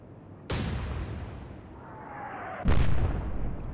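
A naval gun fires in the Atlantic Fleet warship game, two loud booming blasts about two seconds apart, each with a sharp onset and a long rumbling tail over steady sea and engine background.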